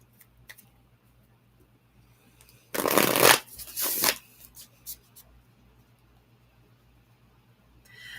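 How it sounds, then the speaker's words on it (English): Tarot card decks being shuffled in two close, crisp riffling bursts of about half a second each, with a soft hum and faint handling noises before and after. "Let's start shuffling my decks actually."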